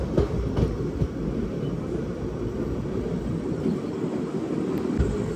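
A moving passenger train on the Cherlapally to Chennai Central run rumbles steadily throughout, a dense low-frequency roar of wheels on rails with occasional faint clanks. No one speaks.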